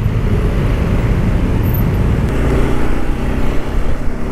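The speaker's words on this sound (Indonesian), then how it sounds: "masih terjebak di macetnya Sudirman" Rush-hour traffic crawls along Sudirman in Jakarta at dusk, a dense, steady low rumble of idling engines heard from inside a vehicle, continuous and loud without breaks.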